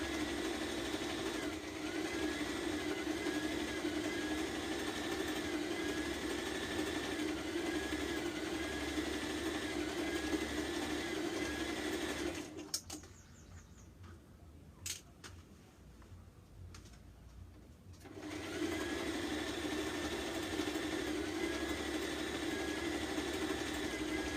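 A sewing machine hums steadily while stitching a dress seam, running for about twelve seconds, stopping for a few seconds of near quiet with small clicks, then resuming its even drone.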